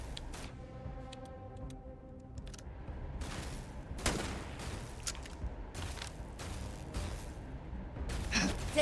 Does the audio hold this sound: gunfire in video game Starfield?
yes